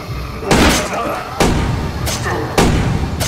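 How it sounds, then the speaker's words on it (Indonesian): Pistol shots fired at zombies in a film scene: three loud, sharp reports at irregular intervals, each trailing into a short reverberant decay over a continuous background. "Dia langsung ambil pistol dan nembakin semua zombie yang muncul."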